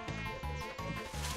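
A cartoon mosquito buzzes in close, steady pulses that swell and fade about four times in quick succession.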